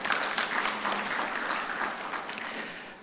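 An audience at a chemical sciences plenary talk gives a steady round of applause that gradually fades over three seconds, with faint voices underneath.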